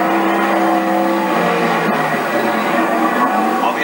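Superstock race cars roar around a track in a team championship semi-final, a dense, loud, steady engine drone with several cars blending together at close range.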